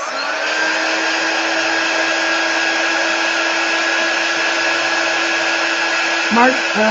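Hair dryer drying chalk paste on a painted sign, blowing as a steady, loud, continuous whir throughout, with a slight shift in tone near the end as it is moved or switched off.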